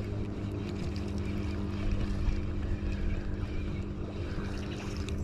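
A small fishing boat's engine drones steadily nearby, a low continuous rumble with a faint rise and fall as it passes, no voices.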